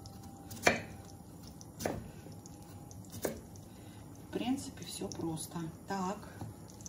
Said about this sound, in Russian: Значит, режу дальше картошку.